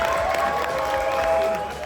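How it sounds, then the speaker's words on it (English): Audience clapping at a BMX Hall of Fame ceremony, a short burst of applause with light cheering over a sustained tonal hum, steady and fairly close. "Give a round of applause to Matt Kaufman."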